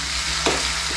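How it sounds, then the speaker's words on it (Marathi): Ginger garlic paste frying in hot oil, a steady close sizzle with one brief stirring scrape in the middle. "ही टाकली आपण आलं लसणाची पेस्ट, ती जरा आपण तेलामध्ये जरा फिरून घेऊया."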